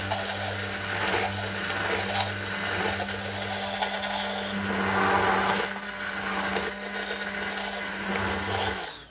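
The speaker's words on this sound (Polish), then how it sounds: "i użyję blendera." A hand blender whirs continuously through thick cucumber soup, a steady motor drone with slight shifts in pitch as it churns, close and fairly loud.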